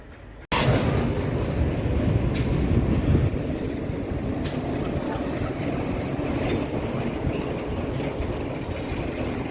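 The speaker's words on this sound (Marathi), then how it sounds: "ही पाठीमागं माझ्या ट्रेन आहे ट्रेन आलेली आहे" A train rumbles steadily close by at a station in Beed, India, with low continuous rolling noise and faint metallic clanks, following a sudden onset.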